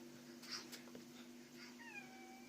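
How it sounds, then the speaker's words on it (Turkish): A cartoon cat gives a faint meow, its rising cry near the end set over a low hum and soft background sounds, with no talking. "Çağır çağır diğer kedileri de çağır hadi."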